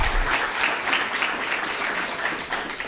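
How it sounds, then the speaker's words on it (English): Audience applause for the parents at the Florence One school athletics awards, a dense, steady roar of many hands clapping close by that carries evenly throughout. "I would love for us to give our parents a round of applause"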